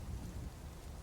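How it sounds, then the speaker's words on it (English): In the video game Dwarf Fortress, a thunderstorm fills the air with steady rain hiss and a low rumble of thunder, a brief dense wash of sound with no voices. "Is the thunderstorm sounds in game? Yes. Yes, they are."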